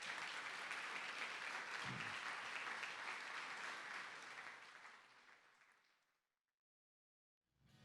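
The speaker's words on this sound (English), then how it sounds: "Let's hear one more round of applause for all of our inductees." An audience at an induction ceremony gives a sustained round of applause for the inductees, full and steady at first, then thinning and fading out to silence.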